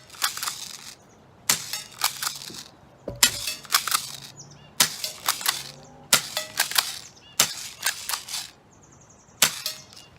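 Daisy Powerline 340 BB pistol fired in rapid succession, sharp crisp snapping shots roughly one per second, close and loud, with brief quiet gaps between them.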